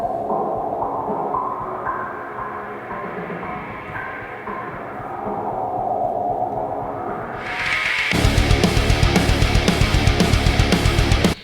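Drums and a single guitar run through Logic fuzz wah and Valhalla room reverb, opening with a swelling, throbbing effected tone before a full band hit kicks in with loud, driving rhythmic drums around eight seconds.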